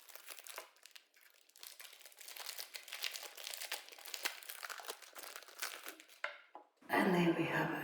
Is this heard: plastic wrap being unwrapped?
yes